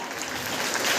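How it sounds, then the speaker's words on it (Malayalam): Applause from an audience for two teachers at a 2024 Onam celebration, a dense, steady wash of many hands clapping throughout the short stretch at moderate volume, with no talk over it. "Come please give them to A very big clap."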